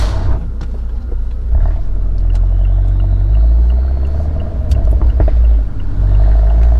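Tuned Abarth engine with Eurocompulsion Phase 3 tune, its exhaust giving a steady low rumble while idling at a stop, heard close and alone with no talking.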